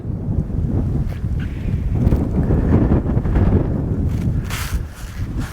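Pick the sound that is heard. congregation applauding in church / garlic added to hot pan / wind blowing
wind blowing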